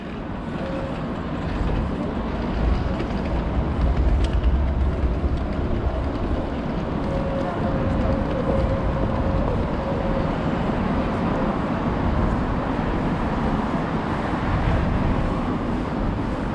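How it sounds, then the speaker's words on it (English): Broad, steady rumble of Helsinki's busy indoor central train station, a continuous wash of crowd noise and machinery with faint tonal hums drifting through. "So here's the central train station."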